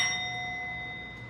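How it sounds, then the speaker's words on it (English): A single bell struck during a stage performance of Macbeth, a faint sustained ring that slowly decays over about a second, heard alone. "The bell invites me."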